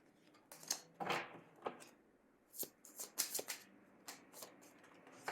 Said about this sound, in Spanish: yo la baraja siempre la suelo barajar en el momento